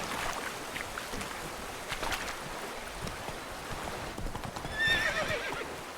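The horse Roach in a video game moves at a steady clip-clop of hooves and whinnies once or twice, over a running, water-like background.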